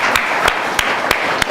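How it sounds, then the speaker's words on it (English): Audience applause at a social business design lab session after a project is approved, steady dense clapping with a few sharp louder claps standing out at regular intervals. "let's give us a big applause"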